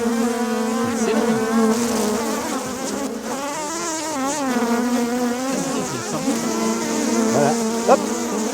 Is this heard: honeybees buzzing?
yes